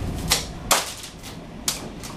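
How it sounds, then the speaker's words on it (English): Very sharp scissors cut through lily stems, three crisp, close snips spaced unevenly across a quiet moment with no talking. "we're going to cut them all the same length with a very sharp scissors"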